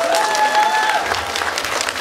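Audience applause at a nativity puppet play in a church setting, a steady wash of clapping from a crowd for the organiser, with faint voices or singing tones underneath.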